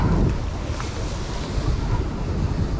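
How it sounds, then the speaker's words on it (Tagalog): Choppy sea waves wash steadily around a boat out fishing, with constant wind buffeting and a broad rushing roar, no voices. "Tingnan nyo, medyo maalon-alon, pero medyo okay naman dahil walang masyadong hangin."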